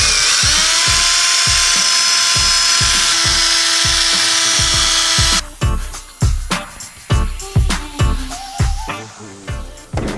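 A power drill fitted with a half-ball polishing pad whirs steadily at high speed on a car wheel, then stops and gives way to a run of quick, irregular buffing strokes, each a rising rush against the rim.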